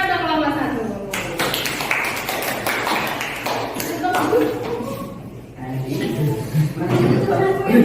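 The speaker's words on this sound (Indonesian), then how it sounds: "tepuk tangan untuk kelompok" Classroom group gets a round of applause, scattered hand claps and taps over a noisy room with overlapping chatter and laughter throughout.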